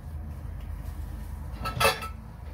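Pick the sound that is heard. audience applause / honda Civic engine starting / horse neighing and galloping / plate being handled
plate being handled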